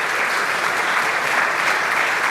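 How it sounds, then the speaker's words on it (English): Dense, sustained applause from a large audience at an open-source software conference, a continuous even roar of many hands clapping with no pauses or talk. "So please give a round of applause"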